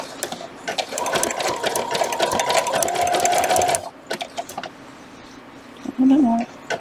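An embroidery sewing machine stitches a hooded towel in a steady, loud rapid whir for about four seconds, then drops to a lower hum, with a short higher-pitched burst near the end and a voice speaking faintly underneath.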